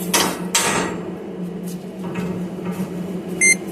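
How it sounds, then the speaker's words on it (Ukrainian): A handheld current clamp meter gives a short, bright electronic beep as it switches on, after some handling and rustling noise. "Працює, щось пікнуло, засвітилося."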